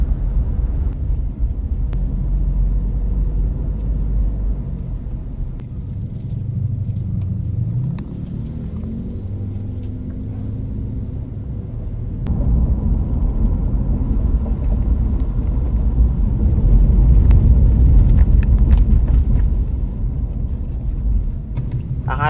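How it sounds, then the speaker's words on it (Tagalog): Car interior while driving in road traffic in Cavite, a steady low engine and road rumble that swells and eases with passing vehicles, continuous throughout with no voices. "Akala nyo ba sa Manila lang ang traffic? Hindi. Dito sa Cavite, traffic din."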